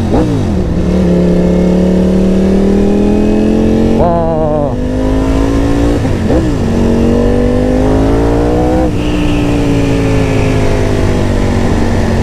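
Ducati Panigale V4 motorcycle with an aftermarket exhaust accelerating hard on a highway, loud and close, its engine note climbing through several gears with brief dips at each shift and a steady wind roar underneath.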